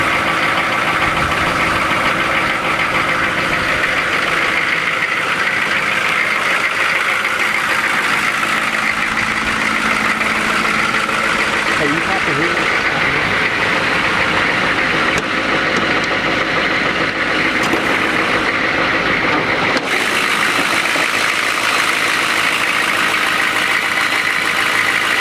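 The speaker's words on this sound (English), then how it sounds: "We'll even drop a cold start in right here. Thing hadn't been started in 2 weeks." A 1994 Chevrolet K2500 Silverado with a 6.5 turbo diesel cold starts after two weeks sitting, settling into a loud, close, steady knocking idle with a rough low rumble.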